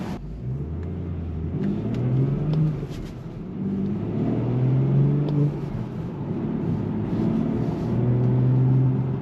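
Tuned BMW 440i with a six-speed manual and downpipe revving past 3000 RPM, a deep, steady engine drone rising and falling as it pulls through the gears, heard from inside the car.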